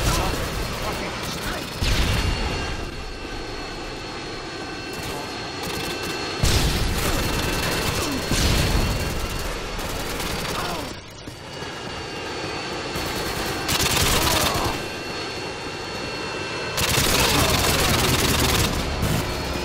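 Harrier jet strikes in Modern Warfare 2 on the Scrapyard map: loud roaring jet passes and bursts of cannon fire and booms recur in waves, with sharp gaps between blasts and a player talking faintly beneath.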